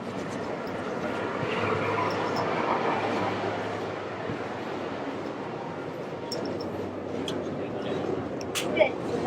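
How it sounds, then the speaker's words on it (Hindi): A maglev train on an airport line in China runs with a smooth, steady rumble and hum from inside the car, faint clicks near the end, and a voice talking over it. "ये मैगलेव ट्रेन है भाई,"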